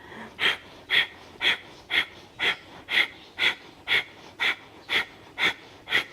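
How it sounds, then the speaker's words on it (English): Steady rhythmic breathing during a yoga exercise, about a dozen short, sharp, evenly spaced breaths roughly every half second, close and clear with quiet between them. "breathe in, breathe out, breathe in, begin"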